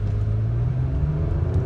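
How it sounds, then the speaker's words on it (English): A 2010 Lexus ES350 pulls away hard from a stop, its engine rising in a steady low rumble heard close up from inside the car, with no speech. "being a launch. Ooh, spun the tires."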